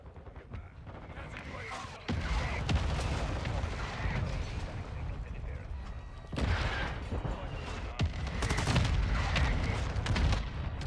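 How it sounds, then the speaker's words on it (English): Mortar strike explosions in Call of Duty: Modern Warfare 2 boom in a loud, sustained barrage, with heavy blasts arriving in waves and rumbling continuously throughout. "Mortar strike inbound now."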